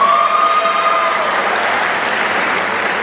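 A middle school promotion ceremony audience claps for newly promoted students, a strong, even wash of applause from a large crowd that stays loud throughout.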